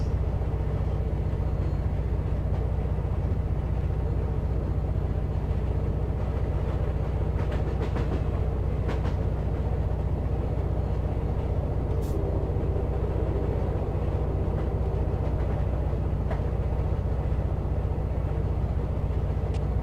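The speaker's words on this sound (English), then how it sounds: "Kylo, you did say these hoppers were good for 60, right?" A freight train of empty coal hoppers rolling along in the Run 8 railroad game, a steady low rumble with a constant droning hum and occasional faint clanks, lasting the whole time.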